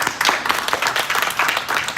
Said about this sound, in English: Somebody give him a hand clap right now.